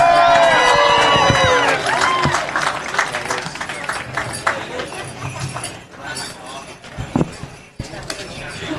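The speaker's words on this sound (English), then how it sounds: "Let's have another big round of applause for everything." Applause and crowd noise fill an audience at the 2024 World Champion Hoop Dance Contest, loud at first and then thinning into scattered clapping under a talking announcer.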